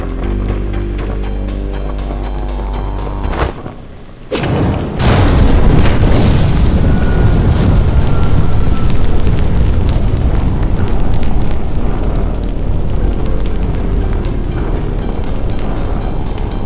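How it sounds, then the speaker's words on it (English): An alcohol-soaked rag stuffed in a bottle catches fire with a sudden loud whoosh, then a steady roaring burn that continues in The Drifter. "I hold the flame under the rag until it lights."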